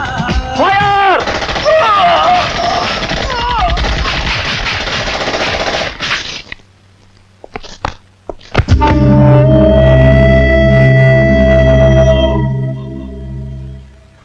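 Rapid bursts of gunfire crack loudly after a stretch of talk, then a sharp break of near silence, followed by a heavy sustained roar with steady tonal hum.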